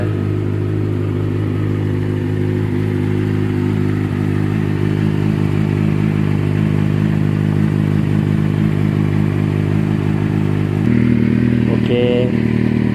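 A Kawasaki Z800 motorcycle fitted with a Yoshimura exhaust idles steadily and close by in a low, throbbing burble that keeps an even rhythm for the whole stretch, shifting slightly near the end, with no talk over it.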